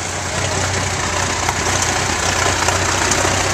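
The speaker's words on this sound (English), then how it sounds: "up comes a John Deere Model 820 diesel." A low diesel engine of a John Deere Model 820 tractor chugs steadily and fairly loud, a continuous rumble with faint knocks, idling nearby.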